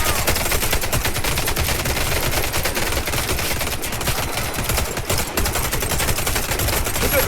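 Continuous rapid automatic gunfire blasts nonstop while shooting zombies in the Warface zombie mode first-person shooter, loud and close with dense overlapping shots and no speech.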